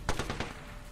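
Rapid burst of about four gunshots in Apex Legends, loud and close, fading into low game ambience with no talk.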